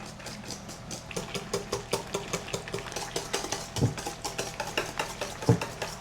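A whisk beats chocolate cranberry cake batter made with whole milk in a bowl, giving quick, even strokes at about four per second, close and fairly loud, with a couple of heavier knocks against the bowl.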